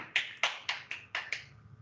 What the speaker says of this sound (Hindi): चाहता हूं दोस्तों एक बार दिल से ताली हो जाए दोस्तों की।